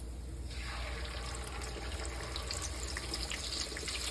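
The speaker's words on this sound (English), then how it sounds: "What happens when you pour egg wash, which is just egg with a little bit of water, into oil, hot oil?" Egg wash of beaten egg thinned with a little water poured into hot oil, giving a steady loud hiss and sizzle of flash frying that holds for about four seconds with no talk.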